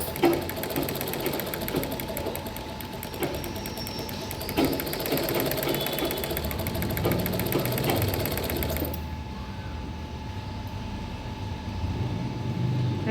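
A sewing machine stitches a child's silk lehenga with a rapid, steady mechanical whir close by, running for about nine seconds before stopping and leaving quieter room noise.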